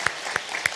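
Church congregation at a Sunday worship service clapping together, with three sharp, evenly spaced claps in quick succession.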